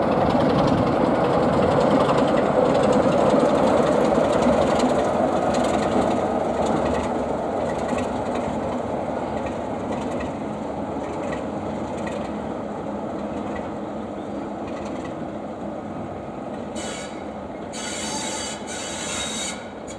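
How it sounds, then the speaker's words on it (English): Class 33 diesel locomotive 33063 departing a bay platform on a heritage railway, a steady rumbling engine and rolling rail noise that is loudest early and eases off, with faint clanks near the end. "we see 33063 preparing to depart the bay platform to connect to the SIG stock in the platform"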